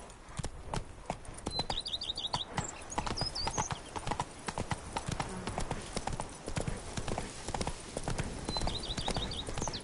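A horse gallops in The Witcher 3 with rapid, rhythmic hoofbeats pounding close and loud throughout, while faint bird chirps trill now and then in the background.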